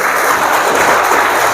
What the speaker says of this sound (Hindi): गजब, जबरदस्त तालियां होनी चाहिए इससे।